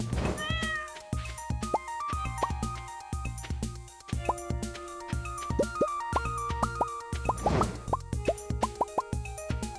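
A cat meows repeatedly in Stardew Valley, in-game meows sounding over a steady rhythm of plopping game sound effects and chiming music.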